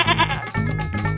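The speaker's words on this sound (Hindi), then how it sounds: "बकरी मैं की करती है" A goat bleating close by, two loud wavering calls in quick succession with a short break between them.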